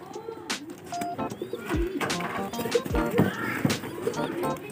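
Racing pigeons coo near at hand in a loft, with repeated soft throaty calls and some bird chirps over faint background voices and movement.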